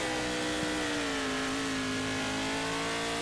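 A car engine in the racing video game Redux Racing revs steadily, its tone rising and settling and holding as a continuous drone with no talk over it.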